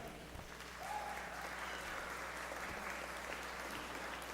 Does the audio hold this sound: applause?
yes